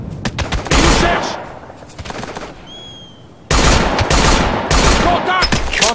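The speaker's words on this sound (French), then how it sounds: "Tir de couverture." Loud, close machine-gun covering fire in the video game Operation Flashpoint: Dragon Rising, with rapid bursts that pause briefly and then resume. Two faint whistling tones are heard during the pause.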